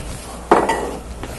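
Crab meat and shrimp are tipped into a pan of sweated onion taken off the heat, making one soft close thud and clatter followed by a brief scrape, then quiet.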